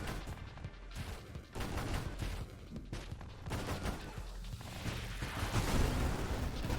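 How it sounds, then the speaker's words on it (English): Mines in the space shooter Nova Drift burst into rapid gunfire, a busy stream of crackling shots and bursts layered over synthetic game music, fairly close and continuous. "any mine I drop off will explode into gunfire, effectively"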